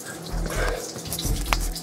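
Cartoon sound effect of water rushing in to fill a place, a brief run of gushing, splashing liquid with a few low thumps, moderately quiet and without speech.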